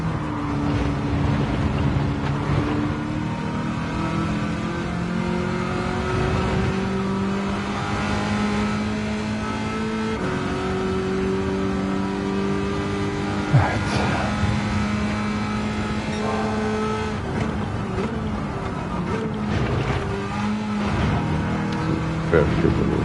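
A small car's engine in the racing game Gran Turismo 7, driven without traction control, drones steadily and loudly with rising and falling revs through gear changes, while someone talks over it.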